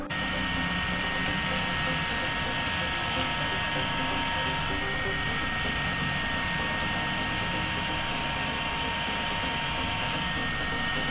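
A V-comb anti-lice vacuum machine runs continuously with a steady, loud, high-pitched motor whine and airy suction hiss that does not change across the whole stretch.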